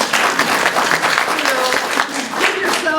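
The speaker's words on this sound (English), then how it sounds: "give yourselves an applause" Audience at a library rally applauding: dense, loud clapping from a room of supporters sustained throughout, with some voices mixed in under it.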